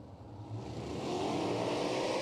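Sprint car engines at I-96 Speedway roar louder as a car launches off the start of an All Stars heat, a dense, steadily building engine blare heard alone without talk.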